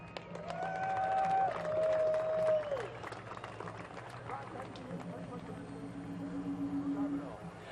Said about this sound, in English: how about a big round of applause of accomplishment for the Lions Club here in Barker River?